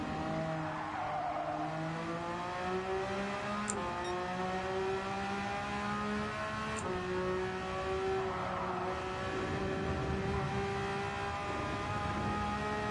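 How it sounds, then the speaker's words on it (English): Race cars in Gran Turismo 7 drone and rev with steady engine tones that rise and shift through gear changes, a continuous mechanical whine from nearby competing cars with no talking over it. "I could still hear the other cars."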